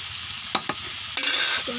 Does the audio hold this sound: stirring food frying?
yes